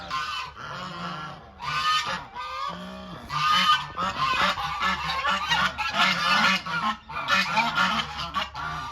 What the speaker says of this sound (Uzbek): Mana g'ozlar bor ekan, korolevskiy zotdagi g'ozlar.